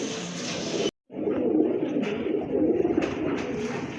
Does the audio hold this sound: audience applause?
no